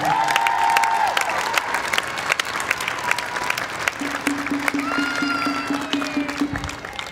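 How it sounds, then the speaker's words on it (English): Crowd applause at a Black Lives Matter rally in Albuquerque, New Mexico: loud, sustained clapping from a gathered crowd with scattered cheers and whoops, plus some tonal sounds drifting over the top. "give everybody else a round of applause one more time for me"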